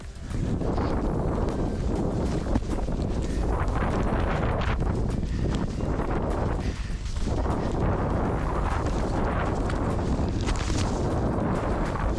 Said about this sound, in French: De retour dans les rafales.